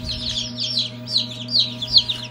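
Purebred Rhode Island Red chicks chirping, a cluster of repeated high peeps close by, overlapping in quick irregular bursts over a low steady machine hum.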